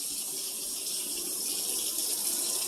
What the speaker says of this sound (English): I'm going to fill the water up to the rim